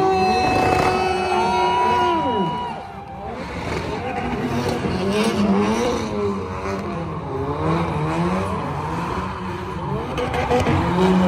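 Ford Bronco engine revving hard during a Hoonigan burnout display at SEMA, loud and continuous with rising and falling revs and tire noise, crowd cheering underneath.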